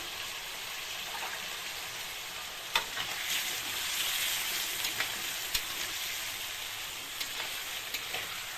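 Kashmiri chili powder and turmeric stirred into a sizzling pan for a thin Bengali curry of aar fish with potato and papaya; steady frying hiss with soft scraping strokes throughout, no voices.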